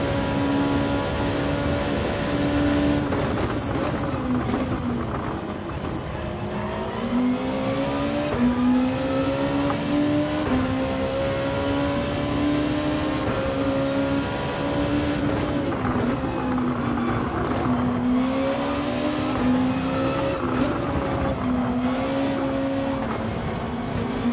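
Honda NSX Gr2 race car engine heard onboard in Gran Turismo 7 at Autopolis, a loud continuous roar rising and falling through gear changes and revs, no talk over it.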